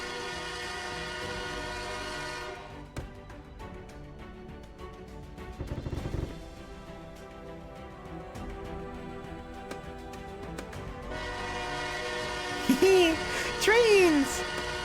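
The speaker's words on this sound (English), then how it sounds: "Also, you can do a horn." A train horn sounds in the video game Choo Choo Survivor, with sustained blasts at the start and again near the end over a rumbling engine, and a voice talking briefly at the close.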